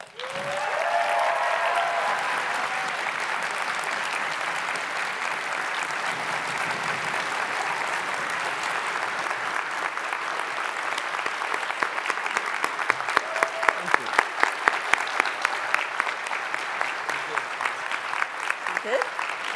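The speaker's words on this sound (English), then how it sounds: "So, round of applause." A plenary audience at a physics congress applauds, a sustained wash of clapping from a large crowd lasting close to twenty seconds, with some louder individual claps near the end.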